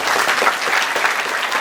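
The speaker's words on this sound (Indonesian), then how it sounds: "Tepuk tangannya mana?" Applause from a crowd gathered for a Maulid Nabi Muhammad religious celebration, dense steady clapping filling the whole short stretch at close, strong level with no talk over it.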